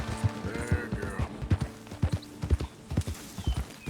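Horse hooves clip-clop at a steady walking rhythm in Red Dead Redemption 2, close and distinct, about two hoof strikes per second, with a faint whinny-like tone early on.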